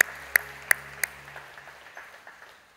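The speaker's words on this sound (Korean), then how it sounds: "여러분께 박수로 환영하시죠" Church congregation clapping in welcome at a Sunday service: a few sharp, loud claps at first, then a scattered patter of softer claps that gradually fades away.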